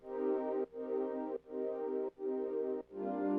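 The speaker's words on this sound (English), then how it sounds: "So I just doubled the chords. It's basically a big synth" Big sustained doubled synth chords in a sad lofi beat, five long held blocks with brief dips between them, full and bright, playing alone with no voices.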